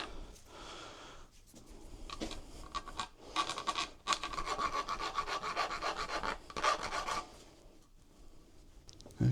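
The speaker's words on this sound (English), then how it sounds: "And then we'll get a round file." A round file rasps along the inside bevel of a part on an Ozark Trail M.2 Ridge bike, giving repeated scraping strokes close by, with short pauses between bursts.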